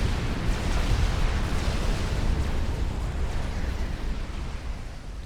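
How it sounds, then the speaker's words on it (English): Aerial bombing run in the real-time strategy game Supreme Commander Forged Alliance, a dense rolling barrage of heavy low explosions merging into one continuous rumble that slowly tapers over several seconds. "A completely overkill bombing run."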